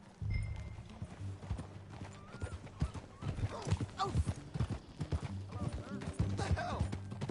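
Horse hooves clip-clop steadily as a mare is ridden in the Red Dead video game, with close, rhythmic footfalls that continue under spoken dialogue.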